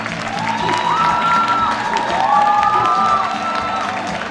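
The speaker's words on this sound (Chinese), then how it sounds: "热情掌声" An audience claps and cheers continuously at a film premiere as the cast is welcomed on stage. The crowd noise is loud and sustained, with whoops and bright tonal sounds rising above the clapping.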